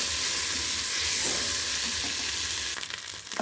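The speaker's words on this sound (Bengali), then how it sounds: "এটা জিরে আবার পেস্ট দিয়েছি, ভালো করে কষে নেব।" Cumin paste and a spice mix sautéing in a pan, a loud dense sizzle filling the whole short stretch, close up, with a brief stir and scrape near the end and no voices.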